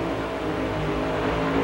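Tractor-pulling machine with multiple Chevrolet engines at a 1989 Atlanta pull, a loud, dense, sustained roar of engines under heavy throttle, steady and close for a brief moment.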